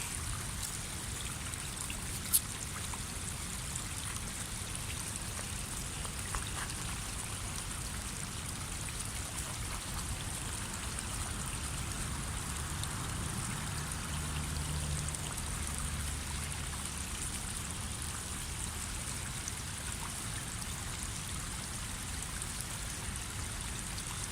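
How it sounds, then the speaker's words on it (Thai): A mountain stream trickles and flows continuously in a soft, steady babble, fairly quiet and even, with one brief click near the start. "มีเสียงน้ำไหลตลอดเวลาเลย"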